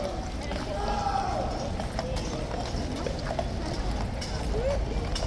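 Horses of the King's Guard cavalry returning to Horse Guards clip-clop steadily on the road at close range, with crowd chatter and talk around them.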